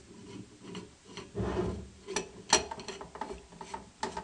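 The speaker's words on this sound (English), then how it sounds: "You thread this fitting right here into this, just like this." Brass fitting being threaded by hand into a homemade high-pressure air cylinder, giving quiet, close scraping and ratcheting rasps in short irregular bursts with small metallic clicks.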